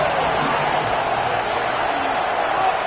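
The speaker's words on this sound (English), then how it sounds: "Man, this crowd really affecting the football game." A home crowd at a football game roars steadily as a dense, loud wash of cheering and shouting that holds without letup for about three seconds.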